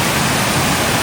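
Namengpengan Falls in Sigay, Ilocos Sur roars as a steady, loud, broadband rush of falling water, close and unbroken with no other sounds.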